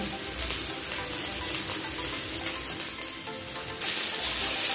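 Chopped ginger, garlic and green chili frying in oil in a pan for an egg tadka dal, a steady close sizzle running throughout and swelling louder near the end.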